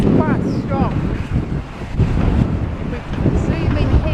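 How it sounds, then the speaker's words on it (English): Strong outdoor wind buffets and rumbles against the microphone near a building demolition site, a loud continuous roar with gusty surges, while a voice talks faintly underneath. "That wind is completely nuts."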